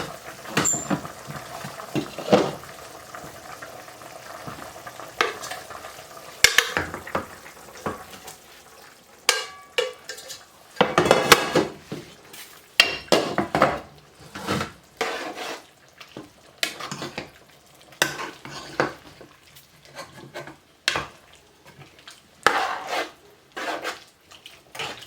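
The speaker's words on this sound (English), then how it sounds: "Now we are going to add the noodles to the pot." Noodles are added to a pot of chicken noodle soup and stirred, producing intermittent close clatters and scrapes against the pot over a soft simmering hiss, with irregular knocks throughout.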